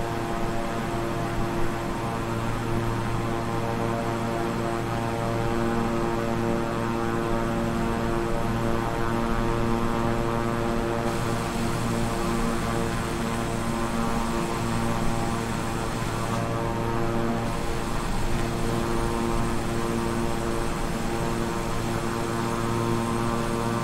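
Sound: King Air 350i twin propeller engines, Microsoft Flight Simulator video game

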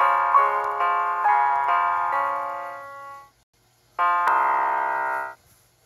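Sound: toy piggy piano playing bell sounds

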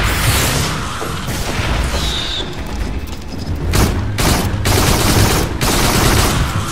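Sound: gunfire shooting at the player in the video game Farpoint VR

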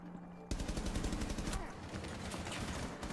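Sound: pistol gunfire in a video game

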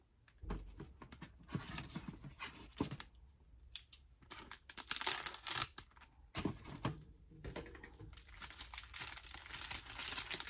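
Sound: removing sunflower bag topper from a paper bag

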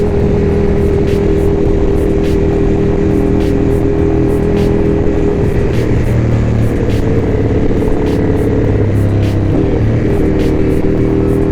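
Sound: sports car exhaust note

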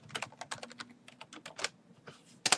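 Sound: typing a password on a computer keyboard

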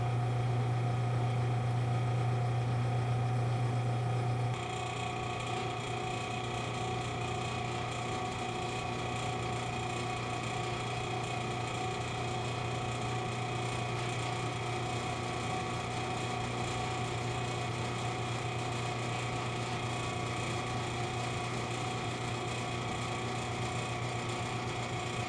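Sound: milling machine decking a cast metal part

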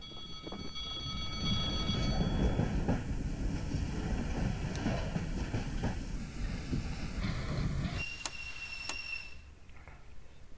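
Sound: train passing in Garry's Mod video game

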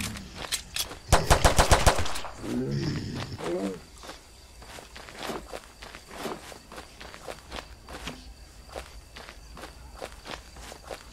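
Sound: gunfire in an indie horror video game

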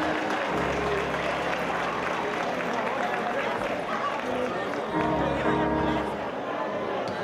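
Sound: audience applause at salsa performance

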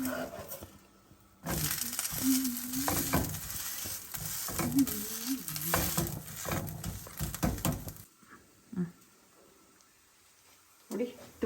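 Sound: ragi rotti cooking and sizzling on the pan

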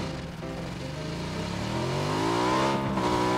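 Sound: motorcycle engine revving in video game PUBG

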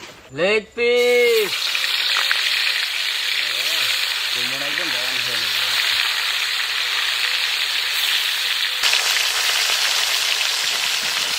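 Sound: fish frying in mustard oil

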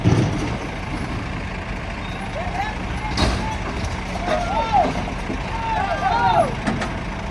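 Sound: Scania truck hauling heavy load

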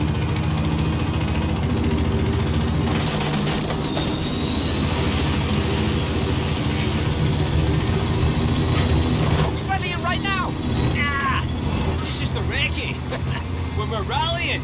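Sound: helicopter in video game Forza Horizon 5

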